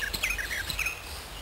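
A pair of pied flycatchers call from a nest hole in a woodland tree, a few sharp high chirps and short trills spaced irregularly over a soft background hush.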